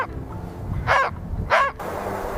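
A puppy barks twice outdoors on a mountain trail, two short sharp barks about half a second apart, close and fairly loud over a low rumble of background noise.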